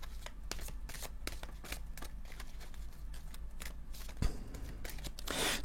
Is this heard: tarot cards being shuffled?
yes